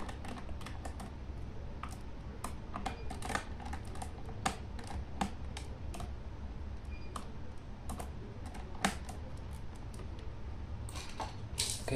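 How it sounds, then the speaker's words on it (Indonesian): Small metal screws being worked loose with a flat-head screwdriver on a Lenovo Ideapad 130 14AST laptop, giving close, irregular clicks and scraping ticks over a faint steady hum, with no talk. "Ini kita menggunakan obeng min."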